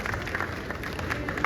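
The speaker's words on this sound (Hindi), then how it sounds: "तो आप सभी के लिए जोरदार तालियां और बहुत सारा स्वागत आपके लिए।" Audience applause at an International Nurses Day celebration in a hospital auditorium, with dense, steady clapping from a crowd filling the whole moment at moderate level and no speech over it.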